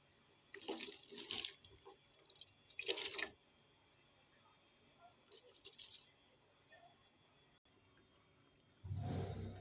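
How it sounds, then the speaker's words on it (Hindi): Rice is tipped into boiling chicken yakhni in a clay pot, giving several rustling, splashing bursts of pouring separated by quiet gaps. A louder, lower wash of liquid comes at the end. "इसमें मैं चावल ऐड कर दूंगी।"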